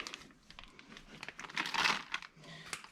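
Close, quiet crinkling and rustling of plastic packaging being cut open on Honda Pioneer 1000 service parts, with a brief louder crunch midway.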